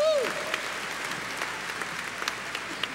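Audience applause after a performance at Berkeley, a steady dense clapping at moderate level, with a few louder individual claps standing out and no speech over it.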